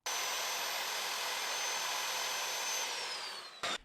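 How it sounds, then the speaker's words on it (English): Power saw whining steadily at a house construction site in a North Lawrence neighborhood, loud and continuous, its pitch dropping near the end, followed by a brief burst of another tool. "The sound of saws and hammers fill this North Lawrence neighborhood"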